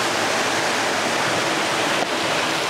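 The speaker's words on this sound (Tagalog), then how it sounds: "itong ilog na to" A river in Imok, Calauan, Laguna flows in a steady, dense rush of water, constant and fairly close throughout.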